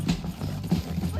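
Horse hooves clip-clop in an irregular rhythm at close range in the video game Red Dead Redemption 2, with faint clanking and a voice murmuring underneath.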